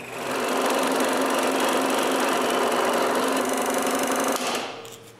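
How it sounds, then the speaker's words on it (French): A scroll saw cuts out the inside of wooden tray handles with a loud, fast, buzzing reciprocating drone that holds steady for several seconds and then winds down. "Pour couper l'intérieur des poignées, j'utilise la scie à chantourner."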